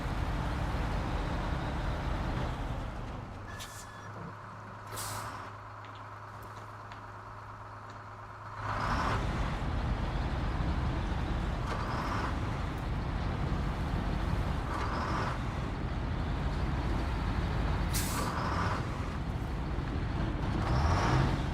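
A heavy off-road truck in the Snowrunner video game lets off its handbrake with a short air hiss, then rolls away under a steady, close engine rumble and drivetrain drone, with a few sharp pneumatic bursts along the way.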